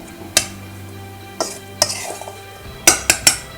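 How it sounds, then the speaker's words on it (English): A spoon scraping and knocking against a bowl as flour and butter are mixed for spinach and pea pakora, a few sharp, close clinks spaced out over a quiet background, no talking. "We will just mix it up very well."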